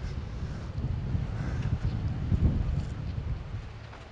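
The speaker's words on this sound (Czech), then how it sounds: "Fuka větr, jsem zabudl, že fuka větr." Wind blows steadily at Venice Beach in Florida, a loud low rumbling buffet across the microphone with gusts swelling and easing, and nothing else standing out.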